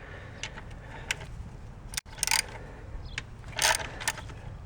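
Ratchet on an extension loosening 8mm plenum bolts on a 2004 Mazda 6, sparse quiet clicks and metallic knocks, close but faint, with a couple of louder rattling bursts.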